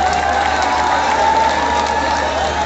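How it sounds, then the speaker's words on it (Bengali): A large crowd claps loudly and steadily at a cultural program marking the first anniversary of Bangladesh's July mass uprising, a dense, unbroken wash of applause with faint cheering mixed in. "তাদের জন্য জোরে একটা করতালি দিতে চাই।"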